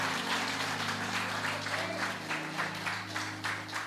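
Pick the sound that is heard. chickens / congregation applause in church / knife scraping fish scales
congregation applause in church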